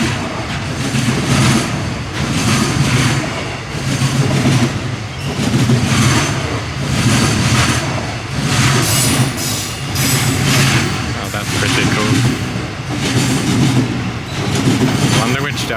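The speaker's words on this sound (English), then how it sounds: "Oh, the freight train's still going" A long freight train rolls past close by in a seaside Japanese city, a loud continuous rumble with rhythmic swelling clatter of wheels over rail joints, car after car, and a voice talking briefly over it.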